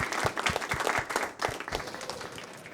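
A short burst of audience applause at a talk event, steady crowded clapping with a few louder individual claps standing out near the front, continuing throughout without speech.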